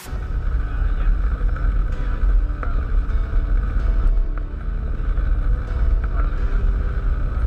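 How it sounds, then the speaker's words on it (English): A Cessna 172 taxis toward the runway at Moorabbin Airport in Melbourne, heard from inside the cabin as a loud, steady engine drone with low rumble and wind buffeting, with no talk. "right now we're taxiing to runway 35 right"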